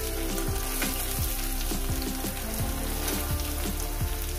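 Chopped onion and green chili fry in a pan with sugar, making a steady close sizzle. Quick, irregular stirring scrapes run through the hiss.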